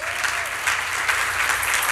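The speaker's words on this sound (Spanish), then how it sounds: "Denle un aplauso al Señor." A church congregation applauds, a dense, loud burst of clapping from many hands filling the room for a couple of seconds.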